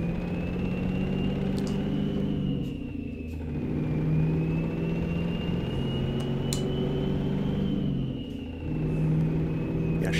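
Mack Cruiseliner truck with a 12-speed Maxitorque transmission in American Truck Simulator, its engine droning steadily as it gains speed, with a low rumble and a whining tone that dip briefly at each gear change, loud and continuous.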